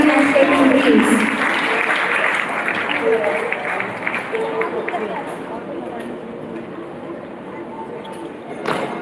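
Applause from a large school audience at an APS Clement Town cultural event fills the hall, loud at first and then thinning into a softer, lingering patter of clapping with faint crowd murmur.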